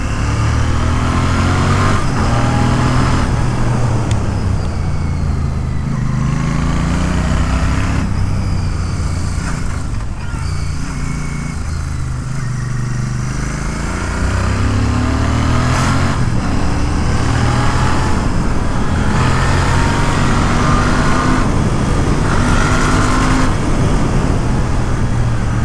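Royal Enfield Interceptor Bear 650 motorcycle ridden on the road, its 650cc engine giving a thumpy exhaust note with steady low engine drone and wind, loud and continuous throughout with no talk.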